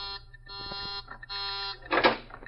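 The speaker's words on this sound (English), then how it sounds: "That's the warning buzzer." A warning buzzer sounds in a steady tonal drone, interrupted by brief gaps and a louder swell near the end, heard fairly close with no voices over it.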